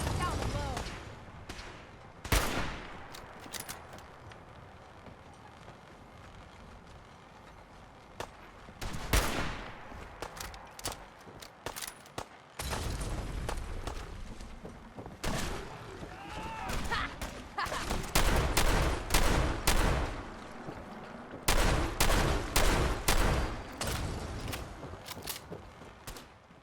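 Gunfire in the video game Fallout 4, with bursts of automatic fire and single loud shots spread across the stretch, dense volleys toward the end, and occasional voices in between.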